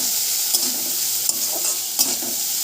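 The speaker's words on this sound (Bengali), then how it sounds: "কাঁচা লঙ্কা, পেঁয়াজ আর রসুন ভালো করে ভাজা ভাজা হয়ে গেছে" Green chillies, onion and garlic fry in a pan with a steady, close sizzle, broken by a few light stirring scrapes.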